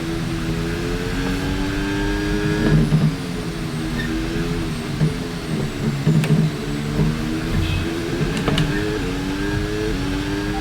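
A Formula 1 car racing in the F1 26 video game on the Miami circuit, a loud sustained engine whine rising and falling through gear changes down the straight, with no talking.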